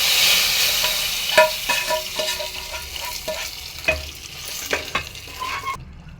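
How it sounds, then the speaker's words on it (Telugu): Tadka tempering for dal sizzling in hot oil: a loud, continuous frying hiss with scattered crackles and pops and a few spoon clinks against the pan, cutting off abruptly at the end. "పప్పు తాలింపు వేసేసుకొని"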